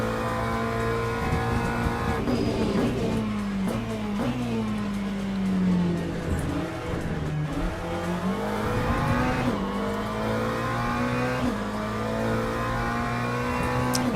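A race car in the Le Mans Ultimate sim game drives with a steady loud engine drone, its pitch climbing and dropping through gear changes and revving, heard continuously and alone.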